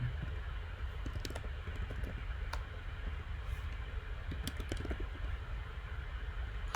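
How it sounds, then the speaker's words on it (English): Computer keyboard keys tapped in sparse, faint clicks over a steady background hiss, with no one speaking. "This keyboard is so annoying."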